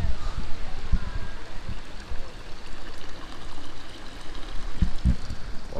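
Water flows steadily from a public street fountain, a continuous trickling and splashing rush that runs through the whole stretch, with a few low bumps and handling noises near the start and toward the end.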